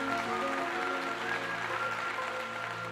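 A crowd claps along to a theme tune at a WWE SmackDown arena event, a dense, continuous wash of applause under the tonal, sustained music at steady volume throughout.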